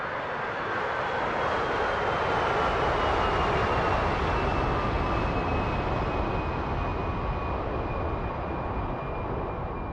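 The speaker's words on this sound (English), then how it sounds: "That's the refueling tanker taking off." Refueling tanker aircraft taking off in a flight simulator game: a continuous loud engine roar that holds steady throughout, with a faint whine slowly falling in pitch.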